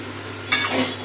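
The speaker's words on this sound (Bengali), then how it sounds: "আলুর সাথে পোস্তটা একটু ভাজা ভাজা করে নেব" Poppy seeds frying with potatoes in a pan over raised gas heat for aloo posto, a steady sizzle with a brief scrape of stirring midway, close and alone.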